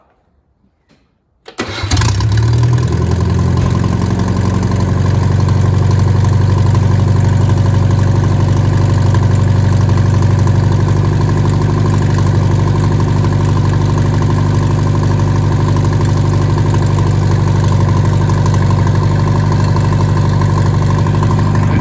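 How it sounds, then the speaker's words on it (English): A Datsun GN620 1500 ute engine fires up after a short silence and settles into a steady, loud, continuous idle running close by, with a new fuel pump fitted and no talking. "So get that hooked up onto the carburetor and let's restart it."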